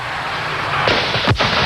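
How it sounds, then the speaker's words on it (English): A cannon booms to start a stage of a road cycling race in the hills near Sharpsburg, a single deep blast heard at a distance over steady outdoor crowd noise. "the cannon announces the start of stage 6"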